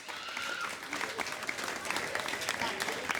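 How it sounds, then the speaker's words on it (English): Applause from the crowd at a summer football camp presentation, a soft, fairly distant patter of many hands clapping, continuous and even throughout, with some voices underneath. "Can I have a big round of applause?"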